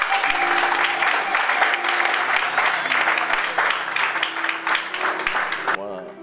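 A church congregation applauds steadily and fairly loudly for several seconds, a dense wash of clapping with a sustained musical tone underneath, fading out abruptly near the end.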